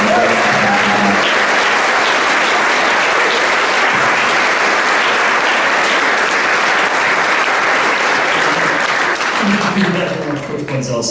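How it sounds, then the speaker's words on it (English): A football banquet crowd gives a long, loud round of applause for the JV and scout team players, a thick sustained clapping that fades slightly at the end as a voice begins to talk. "So I'd like to give a round of applause for that JV team and that scout team."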